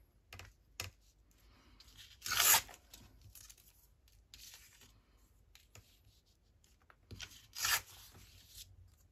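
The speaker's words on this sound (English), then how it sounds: "Let's just rip this one." Scraps of paper torn by hand for a collage, two sharp close rips standing out among quieter rustles and handling noises, no voices.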